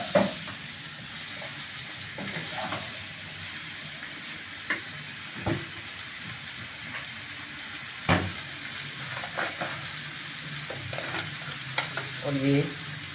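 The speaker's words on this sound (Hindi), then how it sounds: "तो अच्छे से फ्राई करना है।" Pumpkin with green chilli and spices frying in a pan, a soft continuous sizzle broken by scattered clinks and scrapes of stirring, fairly quiet with no talking.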